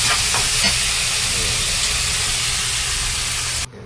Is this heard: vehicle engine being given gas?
no